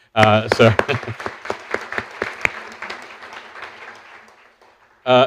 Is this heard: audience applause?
yes